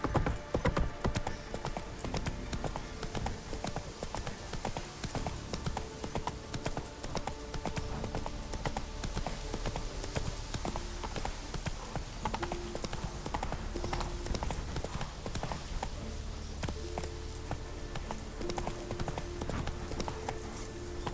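A horse gallops across open ground in The Witcher 3 video game, its hooves pounding in a fast, continuous clip-clop that runs loud and steady throughout, with game music and faint effects underneath.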